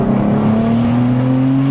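A 1000+ BHP single-turbo BMW G80 M3 pulls hard under full acceleration, its loud, steady engine drone holding a rising tone throughout, heard close from inside the car with no talk.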